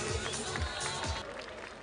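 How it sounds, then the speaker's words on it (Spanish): Applause ripples through the crowd at a street parade for a school's performance, a dense busy wash of clapping with low thumps, fairly loud and continuous. "Un aplauso para Escuela Arte Vida"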